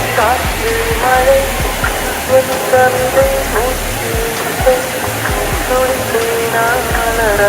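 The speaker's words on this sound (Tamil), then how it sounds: "தண்ணி கொஞ்சம் ஃபோர்ஸாகவே வருது." Thiruparappu Waterfalls pours forcefully into a pool, giving a steady, dense roar of rushing water that stays loud and close throughout, with voices talking over it.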